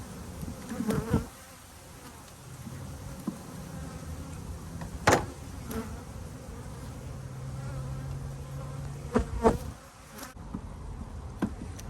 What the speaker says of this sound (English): There's only a few frames of bees, but there shouldn't be too many bees.